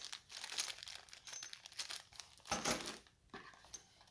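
Loose metal bolts rattle and clink inside a box of motorcycle handguard parts, a series of close, light jangles and taps with a louder burst of shuffling midway.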